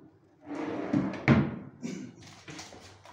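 A built-in kitchen cabinet drawer slides and shuts with a soft thud, followed by a few lighter sliding knocks of furniture parts, close and fairly quiet.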